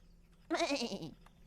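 A cartoon sheep in the puzzle game Home Sheep Home gives a single wavering bleat lasting about half a second, clear and close over a quiet background hum.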